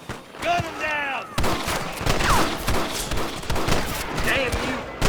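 Scattered gunshots in a Red Dead Redemption 2 shootout with rustlers, a few sharp reports ringing out near and far under shouted game dialogue and a horse's whinny.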